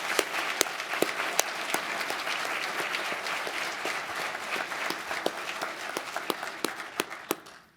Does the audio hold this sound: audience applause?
yes